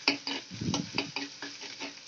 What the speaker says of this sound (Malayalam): രണ്ട് സവാളയും ഒരു നാലഞ്ച് പച്ചമുളകും ചേർത്തിട്ടുണ്ട്. ഇതൊന്ന് ചെറുതായിട്ടൊന്ന് വഴന്ന് കിട്ടണം.